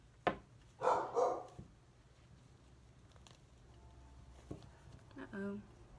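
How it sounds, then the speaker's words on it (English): A pet dog barks a few times in a room nearby, a short burst of yaps early on followed by quieter stretches with faint shuffling and a distant bark later. "Sorry if you hear my dog barking."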